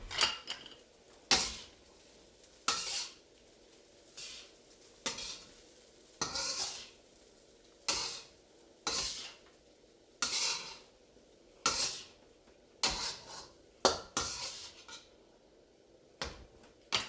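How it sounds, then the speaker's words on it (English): Green onions stirred into fried rice in a hot wok, a spatula scraping and clanking against the pan in regular strokes about once a second, with a soft sizzle between, close and alone. "Add the green onions and stir them into the rice."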